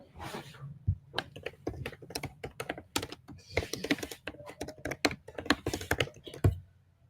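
Code being typed on a computer keyboard during a React web development session: rapid, close, irregular key clicks in bursts with short pauses, loud and clear with no voice over them.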